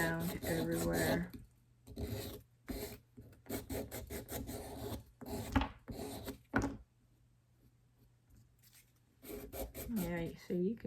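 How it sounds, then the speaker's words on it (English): Repeated rasping strokes of wet sanding on a resin dish come in bursts, close and fairly quiet, with short pauses between runs and brief talking at the start and end. "it's just to keep what I'm sanding from blowing around everywhere."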